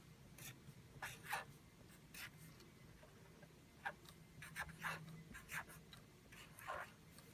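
A pen or pencil scratches out a number by hand, faint close strokes and taps coming in short bursts with pauses between them over a quiet hum.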